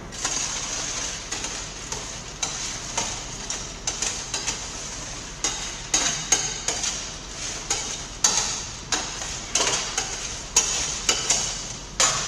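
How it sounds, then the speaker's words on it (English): Kettle corn coated in hot melted sugar is stirred around a pan with a steady stream of scraping, rustling and light clicking, repeated in quick uneven strokes under a soft background hiss. "we're going to mix up the corn so that it'll become loose and it'll give it a chance to dry"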